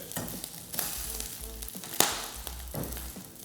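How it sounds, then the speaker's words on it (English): Salmon skin frying in a pan makes a continuous close sizzle with sharp pops and spatters, one loud crackling burst standing out midway, and no voices. "If you don't want salmon skin splattering everywhere, you can try to dry it better before it goes in"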